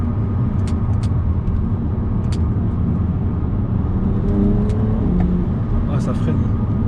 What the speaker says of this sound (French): Là on va freiner assez fort.